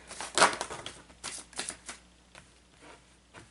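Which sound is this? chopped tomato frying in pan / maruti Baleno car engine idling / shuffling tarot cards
shuffling tarot cards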